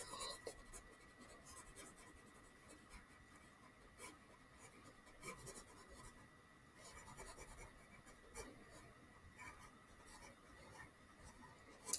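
Quiet scraping and rubbing of an eraser across a board in a math lesson, irregular soft strokes close by with no talk.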